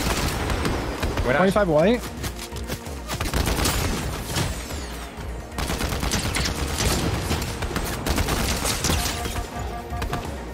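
Fortnite gunfire crackles in rapid bursts and fusillades, loud and close, overlapping with excited player chatter and game effects.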